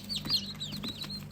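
Newly hatched chicks, about twenty of them, chirping together in a brooder, with bright high peeps and cheeps overlapping steadily and close by.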